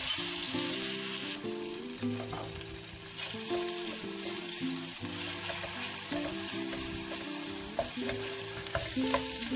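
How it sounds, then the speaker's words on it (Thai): Lean pork sizzles and fries steadily in a hot pan as it is stirred for a Thai pork and tofu vegetable soup, a continuous close crackle with a few faint scraping touches and no talking. "เริ่มหอมแล้วเราก็ใส่ หมูลงไปนะคะผัดให้สุก"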